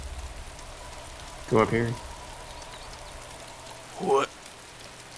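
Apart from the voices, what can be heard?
rain falling in the video game DayZ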